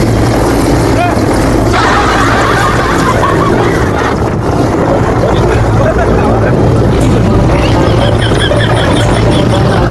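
A loud, steady helicopter roar with a low rotor rumble fills the scene nearby as the Prime Minister's helicopter lands, while a large crowd talks underneath.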